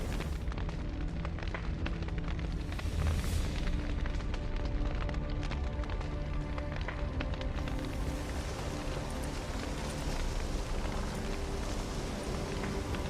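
A manor burning in The Witcher 3 video game: a steady, dense roar and crackle of fire fills the scene without pause, with low rumbles and scattered thuds beneath, and no one speaking.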